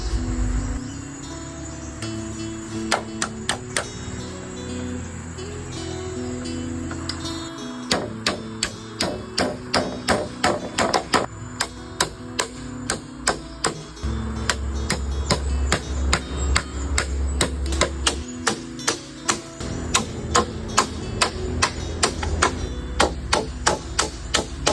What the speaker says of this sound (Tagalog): Yung mga hindi naaabot ay binabaunan ko dito ng mahabang pako.